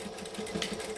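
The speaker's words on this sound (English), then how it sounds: "And then stitch the pocket shut." A sewing machine running steadily as it stitches a pocket shut, a quiet, even mechanical whir with a fast repetitive needle rhythm and no talk.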